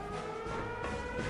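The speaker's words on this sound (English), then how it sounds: "I gotta figure out where the siren is." An alarm siren wails steadily and loudly in the Return to Castle Wolfenstein video game, filling the whole moment with a continuous droning tone and no pause.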